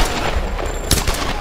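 Loud, close gunfire cracks out in Tomb Raider, a quick cluster of sharp shots packed into little more than a second.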